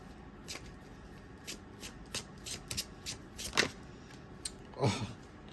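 A traditional manga tarot deck being shuffled by hand, giving a series of crisp, riffling card bursts that come irregularly over a quiet room, with one longer, fuller shuffle near the end and no talking.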